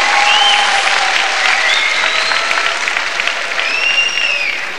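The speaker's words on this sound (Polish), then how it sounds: "duże brawa chciałem posłyszeć teraz" Concert audience applauding at a show in Opole, a dense sustained wash of clapping from a large crowd, steady and loud throughout with a few faint tonal tones drifting over it.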